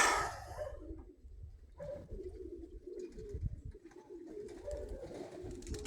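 Evening pigeons coo softly and repeatedly at moderate distance, a low murmuring call recurring throughout with a brief higher burst at the start and quiet ambience between.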